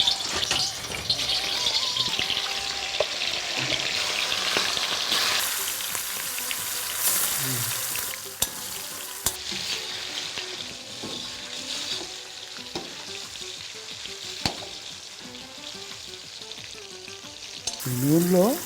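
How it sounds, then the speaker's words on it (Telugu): Country chicken pieces for gongura vepudu fry in hot oil. A loud, close, continuous sizzle is broken by occasional clatter of stirring, and a brief stretch of faint background voices may be present. "నూనె కాగితే ముందు ఆ చికెన్ ఇందులో వేపి పక్కన పెట్టాలి. ముందు అది పైకి తీసుకో, చికెన్ ముక్కలు ఇందులో వేసి."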